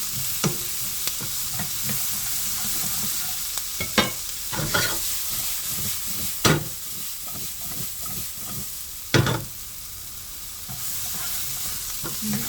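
Fish cake sizzles in oil in a pan as it is stir-fried, a steady frying hiss broken by sharp scraping and stirring knocks of a utensil against the pan.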